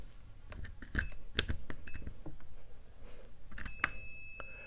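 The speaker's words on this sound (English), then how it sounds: "as far as on measuring on our continuity, which is our tone, you can use that for your fuses." A multimeter set to continuity tests a fuse, giving a steady electronic beep that sounds near the end of the clip, after scattered clicks and taps from handling the probes.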